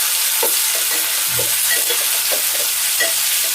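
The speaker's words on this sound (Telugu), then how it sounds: "ఉల్లిపాయలు దూరగా వేగాలి, మంచిగా దూరగా వేగాలన్నమాట." Onions fry and sizzle in a pan for a bitter gourd curry, a steady hiss broken by irregular scraping stirs, close and alone without talk.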